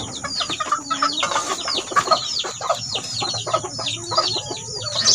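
Labuyo breed chickens in a backyard coop clucking, many overlapping short clucks and calls in a busy, fairly close chorus with steady background noise.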